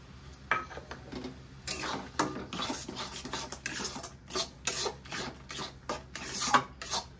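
Ground lentil paste is stirred in a pan for stuffed pointed gourd, a spoon scraping and rasping against the metal in uneven strokes, close and fairly quiet with a faint sizzle beneath.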